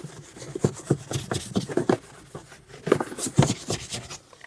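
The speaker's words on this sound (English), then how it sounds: "And just give it a good scrub" A stiff bristle brush scrubs the grimy fender well of a car, giving a run of quick, close rasping strokes in bursts with a brief pause midway, loud and alone.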